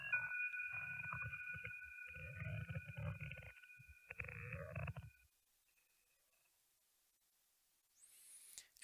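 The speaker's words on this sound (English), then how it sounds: "the marble mushing will just continue going without starting over again" A synthetic marble-mushing effect built in iZotope Iris plays as warbling, resonant tones over a low grinding bed for about five seconds, then drops to near silence before a short high-pitched sweep at the end.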